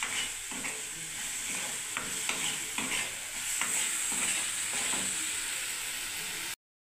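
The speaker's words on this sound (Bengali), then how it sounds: "ব্যাস এবার আমি নাড়তে থাকবো।" A spoon stirs food through a pan of gently sizzling ingredients for a Bengali kolai breakfast, giving a continuous scraping and soft frying hiss with light, irregular scuffs, fairly quiet and steady, no voices.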